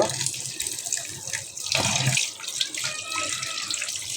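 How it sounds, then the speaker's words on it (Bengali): Fish being washed under a running kitchen tap in a sink, water splashing steadily and close, with a brief louder gush partway through. "কীভাবে মাছটা আমি ধুব"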